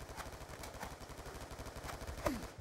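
Rapid automatic gunfire rattles in steady repeated bursts from Black Ops 2, a quiet, continuous machine-gun stutter with a faint whine near the end.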